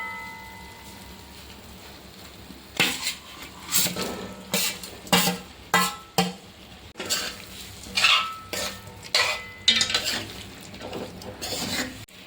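Pork pieces tipped into a pan of frying chilli masala for Kerala-style chilli pork and stirred, with a dozen or so sharp spoon-on-pan scrapes and clanks over a soft sizzle.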